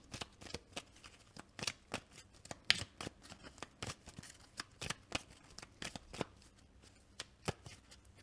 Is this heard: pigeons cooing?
no